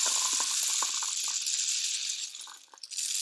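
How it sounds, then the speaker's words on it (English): Dried split peas trickle and patter into a homemade rain stick tube, a dense, steady rattling stream of small hard grains that thins out near the end, close and alone. "Hold the bottom end and then fill with your split peas,"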